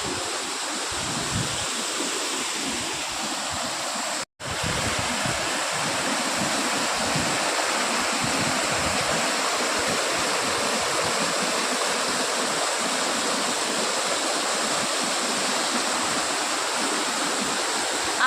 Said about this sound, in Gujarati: જુઓ આ ખેત ખેતરોમાં કેવું પાણી ભરાયું છે અને કેવી રીતે જાય છે